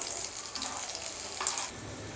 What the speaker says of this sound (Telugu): చూడండి, ఈ విధంగా ఫ్రై చేసుకోవాలి.